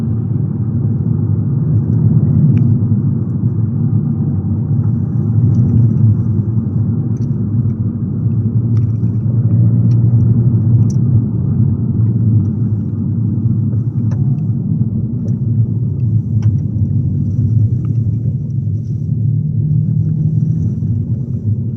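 An Abarth fitted with a Toyosports stainless steel exhaust cruises on the road with a constant, loud, low engine rumble that holds evenly throughout, with only slight swells and no talking.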